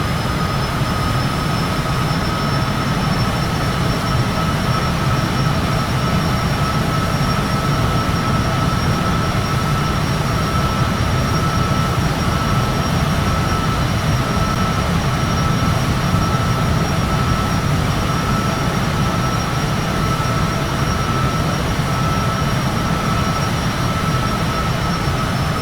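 A Cessna Citation business jet departs in a flight simulator, its steady broadband engine roar running continuously with a faint high turbine whine and no voices.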